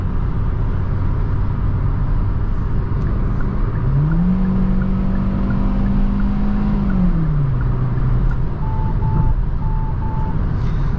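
A 2023 Hyundai Venue's 1.6 naturally aspirated four-cylinder engine drones steadily while driving, with a rising engine tone mid-clip that holds and then drops, over constant road and wind noise inside the cabin.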